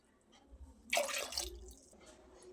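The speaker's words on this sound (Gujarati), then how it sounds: "તો બીજી 4 વાટકી પાણી ઉમેરી દઈશું" Water is poured from a bowl into a pot of masala khichdi, a short splashing gush lasting about half a second, close and fairly faint, with quiet surroundings before and after.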